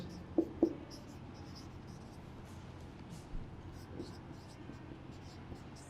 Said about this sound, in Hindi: वर्ड्स के एग्जाम्पल लिखते हैं हम यहां पे